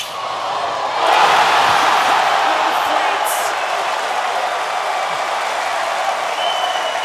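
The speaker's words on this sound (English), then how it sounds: "They're not standing, they're certainly clapping." Crowd at the US Open tennis championship applauding steadily, a broad even wash of clapping that swells after the first second and holds at moderate loudness to the end.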